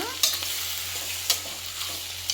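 Tomato pulp with salt and turmeric frying in oil, a close steady sizzle with a low hum underneath and a few sharp scraping stirs.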